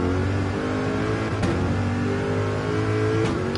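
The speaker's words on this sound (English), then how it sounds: "We might get on board and see what it's like to be overtaken by 4 very fast Porsches" Several fast Porsche race cars roar past in Gran Turismo 7 during a GT Challenge race, seen from on board as they overtake, with dense, continuous engine drone and rising revs layered throughout.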